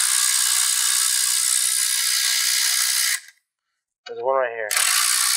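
A ratchet backs out 10 mm bolts on the radiator fan of a 2019 Acura TLX. A steady whirring rattle runs for about three seconds and stops. Someone speaks briefly, then the ratcheting resumes.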